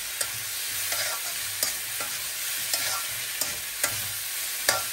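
Spices with turmeric sauté in a pan for a Bengali egg omelet curry, a steady sizzle broken by about eight sharp scrapes and taps of the stirring utensil, close and with no talking.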